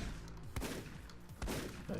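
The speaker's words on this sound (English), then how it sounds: "So all these secondary bomb explosions are going to be hitting the Skeletos as well as her." Explosion sounds from secondary bombs going off in the video game Paranautical Activity, with repeated loud booming bursts and thuds over a busy background of game music and effects.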